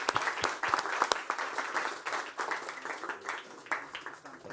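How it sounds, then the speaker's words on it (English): A conference audience applauds, dense clapping at a steady moderate level that fades slightly toward the end. "A round of applause"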